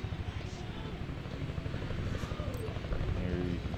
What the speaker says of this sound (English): Now we have effectively two choppers in the air, ready to do battle.